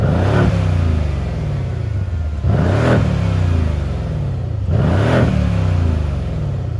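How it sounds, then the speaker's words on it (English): Mercedes C63 S V8 with the exhaust valves closed, comfort mode and a Renntech module, revved three times in a row, each blip rising sharply and falling back to a steady idle rumble, loud and close with no talk. "Now we're going to do some revs in comfort, again with the valve off, and now with the Renntech module on."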